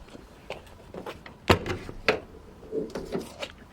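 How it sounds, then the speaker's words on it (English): The big side-hinged barn door at the back of a Tempo Wiking camper swings open with a few close knocks and clunks, including a sharp latch-like bang partway through, set against quiet background noise. "In the back of it you see a big barn door which opens to the side"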